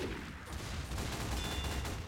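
Rapid submachine gun bursts in Team Fortress 2, a dense crackling stream of shots under continuous battle noise, close and fairly loud.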